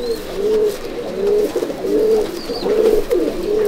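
Pigeons in a loft coo in a repeating, throaty rhythm, several low rolling calls in close succession, near and fairly loud, with a faint chirp in the background.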